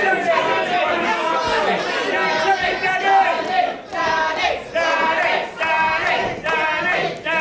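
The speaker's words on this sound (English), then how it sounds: "You can hear the crowd chanting here" A wrestling crowd at a live show chants for the referee, loud rhythmic bursts of many voices repeating in pulses close by.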